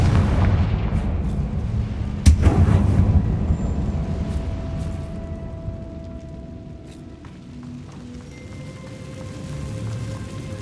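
A Confringo blasting curse goes off in Hogwarts Legacy with a sharp, loud burst followed by a rumbling boom and crackle that slowly fades into low ambient noise.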